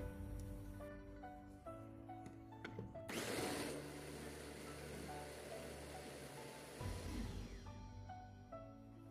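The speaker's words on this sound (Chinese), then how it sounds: "放入榨汁机， 加入适量的水， 打碎，" A juicer blends diced, peeled yellow pear with water, its motor whirring loudly in one burst of several seconds between quieter stretches of background tones.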